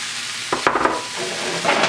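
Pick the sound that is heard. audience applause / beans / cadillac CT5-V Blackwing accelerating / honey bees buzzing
beans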